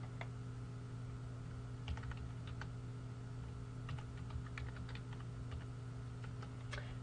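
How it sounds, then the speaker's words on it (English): Steady typing on a computer keyboard while entering data into a database table, quiet close keystrokes in an even patter over a constant electrical hum, with no voice. "As I type in the data"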